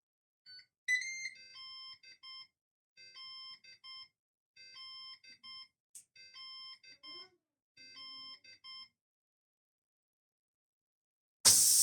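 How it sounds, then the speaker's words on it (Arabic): A Ninja Foodi electric pressure cooker sounds its alarm in repeated short groups of clear electronic beeps with pauses between, followed by a sudden loud burst of hissing at the very end. "وبس انتهى الوقت بتعطي إنذار"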